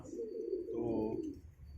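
A pigeon's low, soft coo rolls out nearby, a steady throaty murmur with a faint higher chirp above it.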